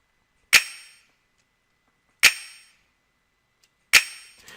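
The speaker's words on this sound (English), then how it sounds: "this is what the snap sound like" A snap sample in an R&B trap beat, heard as three sharp, bright, isolated snaps about 1.7 seconds apart, each with a short airy reverb tail, alone against silence.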